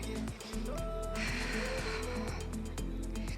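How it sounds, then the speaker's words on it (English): FedEx delivery truck engine rumbling steadily outside, a low continuous drone in the background with a brief rise partway through, no talk over it. "We got a FedEx truck over here, so sorry if you hear a little noise in the back"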